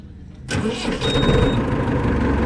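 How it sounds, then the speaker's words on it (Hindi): A 1983 Ford 7610 tractor's diesel engine cranks and catches about half a second in, then settles into a loud, steady, rumbling run close by with no talking. "अगर आपको साउंड सुनाता हूँ ट्रैक्टर की"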